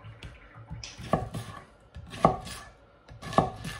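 Food being diced on a cutting board with an Esee Laser Strike knife, three sharp, evenly spaced chops close up between softer scraping and handling noises, no speech.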